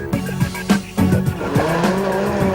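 A rally car on a WRC stage through lakes and pines, its engine revving in quick rising and falling bursts with gear changes, loud and close.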